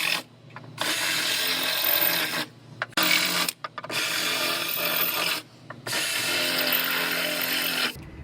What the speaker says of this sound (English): I'm going to drill out the spot welds just through this top layer right here